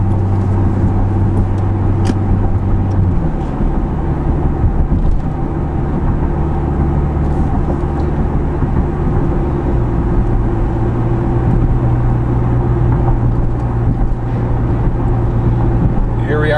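Inside a 2010 V6 Camaro with an MRT exhaust cruising around 42 mph, a loud, steady low exhaust drone fills the cabin, dropping to a deeper hum after an upshift early on.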